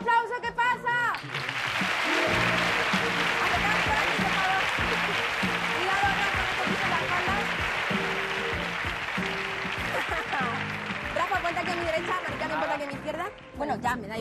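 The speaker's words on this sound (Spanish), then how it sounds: "¡Y ese aplauso que pasa!" Sustained studio audience applause on a Spanish television game show, a dense, steady wash of clapping that runs loud for the whole stretch, with music-like tones and some voices faintly underneath.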